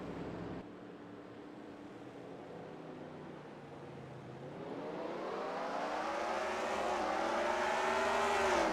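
Race cars in a racing video game accelerate at the start of the Martinsville 75 at Martinsville Speedway, engines rising from a steady drone to a loud, climbing roar of several cars pulling away together.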